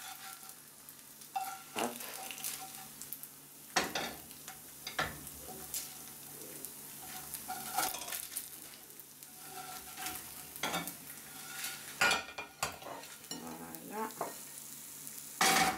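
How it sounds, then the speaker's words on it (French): Mochi croutons fry in a pan with a faint, steady sizzle, broken by intermittent clicks and scrapes of stirring. A few brief spoken words come over it, and the sound is fairly quiet and close. "Donc je vais les mettre dans ma poêle"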